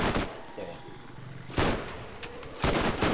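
Gunfire in the video game Borderlands, several sharp bursts of shots separated by brief pauses, loud and close.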